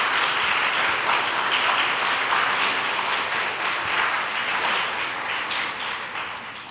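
A crowd at an MLK essay contest applauds continuously, a full, loud wash of clapping that holds steady for nearly seven seconds and tapers slightly at the close.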